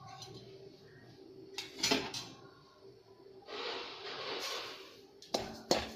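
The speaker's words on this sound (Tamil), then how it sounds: "கோதுமை ரவை நல்லா சிவக்க வறுக்கணும்." Wheat rava roasts with a little ghee in a kadai: a utensil scrapes and clinks against the metal pan in short bursts, with a longer stretch of steady scraping partway through.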